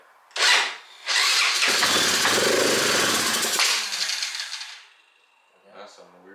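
A Honda 4Trax ATV fitted with a new carburetor cranks, catches and runs roughly at close range for a few seconds before cutting out, and a brief voice follows near the end.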